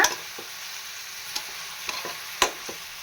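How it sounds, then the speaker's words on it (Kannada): Cucumber curry stirred in a pan, a soft frying sizzle under a few scraping utensil strokes against the pan at an unhurried pace. "ಒಂದು ಸ್ವಲ್ಪ ಮಿಕ್ಸ್ ಮಾಡ್ಕೊಳ್ಳೋಣ"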